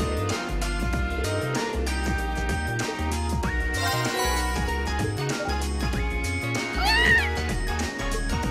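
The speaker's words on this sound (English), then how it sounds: "You are asking a cat." Cat meowing in the video game Trails of Cold Steel, a short high mewl near the seventh second over steady game music that fills the whole stretch.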